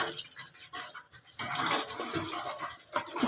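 Water splashing and running over goat meat rubbed with flour as it is washed by hand, uneven bursts of pouring and sloshing close by with no speech.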